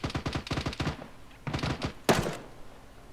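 Gunfire in the video game Arma 3 Wasteland: rapid bursts of automatic shots rattle in two clusters, then a single sharp, loud crack rings out and fades.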